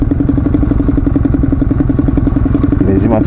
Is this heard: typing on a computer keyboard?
no